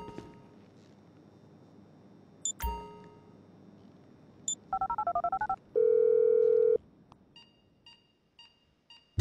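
Phone dialing tones in Grand Theft Auto V: a quick run of keypad beeps followed by a steady held tone, with scattered electronic blips and short chimes around them, loud and clear over a quiet game background.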